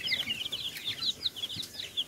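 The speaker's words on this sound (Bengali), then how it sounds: "মুরগিটি হচ্ছে ব্রাহ্মা, অস্ট্রেলিয়ান ক্রস।" Brahma–Australian cross chickens on a small farm give rapid, high, close-up clucking and peeping calls that run steadily across the whole moment.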